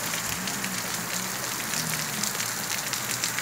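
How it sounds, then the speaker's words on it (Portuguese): Heavy rain pouring down in Rio Grande do Norte, Brazil, a loud, dense, constant hiss of drops drumming on surfaces, with a faint low hum underneath. "Aqui demora a chover, mas quando chove, tá indo pra dentro de casa já"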